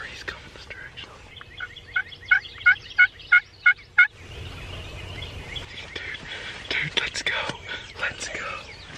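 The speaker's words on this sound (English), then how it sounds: "he's gobbling hard" A wild turkey gobbles in a rapid run of about six loud, rattling calls, then falls quiet while hunters whisper and shuffle close by.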